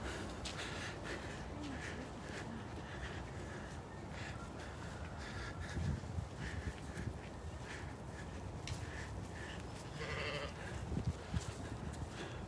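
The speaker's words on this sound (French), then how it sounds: "On va aller voir nos brebis qui sont ici à droite." Ewes on a conservation farm bleat repeatedly in short calls over a constant outdoor rumble, some near and some farther off, with crow-like caws mixed in and no one speaking.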